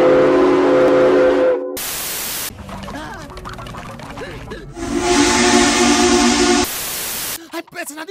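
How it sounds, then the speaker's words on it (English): Steam whistle of the Southern 4501 steam locomotive sounds in loud sustained blasts, separated by short breaks and a rougher noisy stretch, close and strong. "My new steam whistle."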